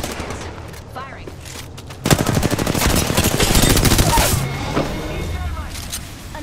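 Rapid automatic gunfire in a shooter video game rattles out as a loud, sustained burst lasting a couple of seconds, with quieter scattered shots before and after and game voices faintly beneath.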